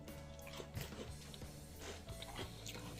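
Crunchy food from a halal MRE being chewed up close, a quiet run of crisp bites and crackling crunches with faint wet mouth sounds, no talking.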